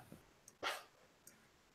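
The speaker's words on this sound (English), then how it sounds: "that's a crazy dog" Dog giving one sharp bark amid a few faint yips, brief and moderately close against a quiet background.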